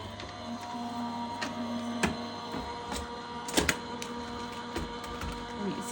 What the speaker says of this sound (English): I'm going to run that through my die cutting machine.